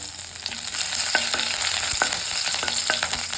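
Curry leaves go into hot oil with mustard seeds and dried chillies for sambar, giving a steady close sizzle and crackle with scattered small pops and spits.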